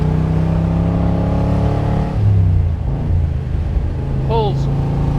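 A 1967 Chevrolet Corvette Stingray 427 convertible roars and revs up close through its side exhaust pipes, a deep rumbling exhaust building in loudness, with a brief voice near the end.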